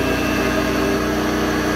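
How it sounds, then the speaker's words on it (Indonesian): A Mitsubishi Galant Legnum VR4 station wagon engine in a darkened workshop runs with a steady, even idle, its low rhythmic pulsing loud and close throughout, with no voices. "Ini langsung aja kita starter."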